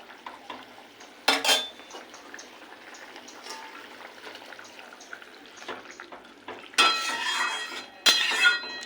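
Fish going into a pot of boiling curry broth, with soft bubbling and gentle stirring under a few sharp clanks of metal utensils against the pot.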